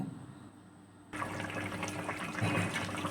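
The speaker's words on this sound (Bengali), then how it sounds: "পরিমাণ মতো ঝোল দিয়ে দেব" Broth poured into chicken curry cooking in a pan, a steady watery rush that starts abruptly after a quiet second and continues evenly to the end, close and moderately loud.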